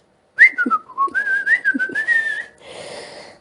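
Someone whistles a wavering, sliding tune for about two seconds, loud and close, and then a softer breathy hiss trails off at the end.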